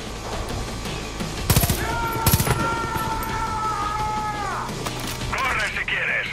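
Gunfire in the video game Far Cry 5: two sharp bursts of shots ring out close and loud over a busy game soundscape, followed by a sustained tonal effect and clattering noise near the end.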